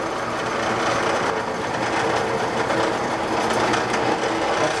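A metal lathe runs at about 1,000 RPM with a diamond tool holder, producing a continuous, loud mechanical whir and hum that stays steady throughout, close by and alone with no talking.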